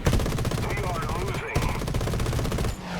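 Aircraft guns on the XF5F Skyrocket fire in War Thunder in rapid, sustained bursts, a dense loud mechanical rattle that pauses briefly midway before resuming, with no talking over it.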